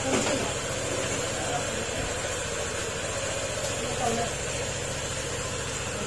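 Rebuilt Honda ADV150 scooter engine with new crankshaft and block idling steadily at close range, a continuous even mechanical hum and vibration throughout.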